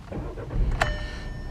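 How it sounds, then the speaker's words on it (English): A Volkswagen Polo 1.2 TSI car engine starts with a short whine and a sudden cranking burst, then settles into a low rumble with a faint electronic tone from a low-fuel warning. "Just going to turn the car on."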